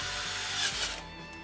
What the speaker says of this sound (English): drill a 1/4 inch hole in the sink drain pipe